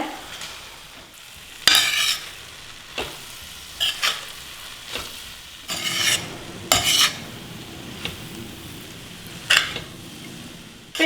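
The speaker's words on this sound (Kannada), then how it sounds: "ಸ್ಟವ್ನ ಲೋ ಫ್ಲೇಮ್ನಲ್ಲಿ ಇಟ್ಕೊಂಡು ಈಗ ನಿಧಾನಕ್ಕೆ ಇದನ್ನು ಮಿಕ್ಸ್ ಮಾಡ್ಕೊಳ್ಳೋಣ" A spoon stirs tomato rice in a pan over a low flame, scraping and clattering in short bursts over a soft background sizzle.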